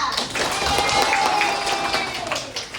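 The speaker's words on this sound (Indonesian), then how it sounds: "beri aplaus untuk Nisa" A classroom of students applauds a classmate, a sustained patter of many hands clapping at once, fairly close and lively, then tapering off toward the end.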